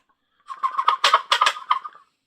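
A handheld gobbler call from a hunting kit is blown to imitate a wild turkey gobble, giving one loud, close, rapid rattling burst of about eight quick notes that stops abruptly, with no speech over it.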